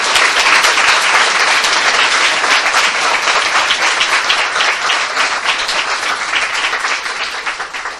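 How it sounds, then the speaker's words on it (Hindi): A church congregation claps loudly together in praise during a Hindi-language sermon, a dense, sustained roar of hands that stays strong for several seconds before easing off slightly toward the end. "आइए हम प्रभु यीशु मसीह के लिए जोरदार ताली बजाएं।"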